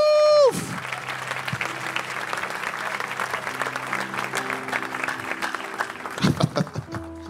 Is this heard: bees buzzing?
no